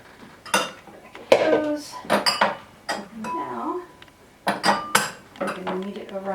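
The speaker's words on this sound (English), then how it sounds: "putting away dishes" Dishes, pots and cutlery are put away in a home kitchen, several sharp clinks and clatters in irregular bursts, close by, with a voice talking faintly between them.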